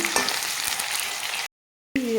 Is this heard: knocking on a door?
no